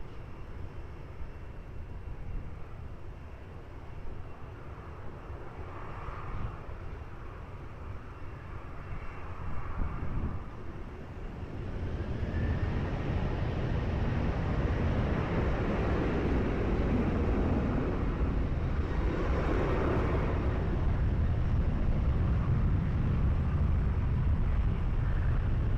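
Airplane taking off from runway 20 at Lisbon Airport, a broad engine roar that builds and grows louder about halfway through, then holds steady and distant-to-mid range.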